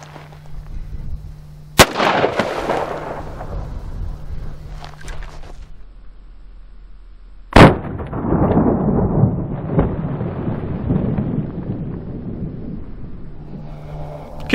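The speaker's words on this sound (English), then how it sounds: "next I'm going to shoot one standard 38 and one plus P." Two sharp, loud gunshots from a .38 Special snubnose revolver, one a standard load and one a +P, fired outdoors several seconds apart, each followed by a long rumbling echo.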